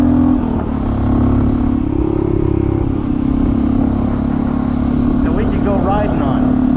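A Honda CT125 motorcycle fitted with a big bore kit climbs a mountain road, its engine droning loud and steady under wind rush, with someone talking over it.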